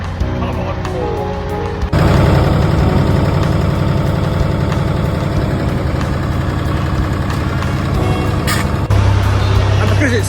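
A Ford 4000 diesel tractor engine runs on a farm, a loud, close, steady diesel clatter that rises sharply after a quieter start and continues with faint beeping and a voice partly over it.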